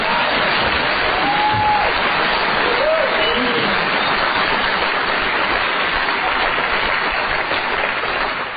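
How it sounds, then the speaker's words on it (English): A large convention hall audience at a 2009 world convention in Barcelona breaks into steady, dense applause, a continuous rain-like wash of clapping that holds loud and unbroken throughout, with a few brief voices rising over it. "that was all I needed to say to get a clap"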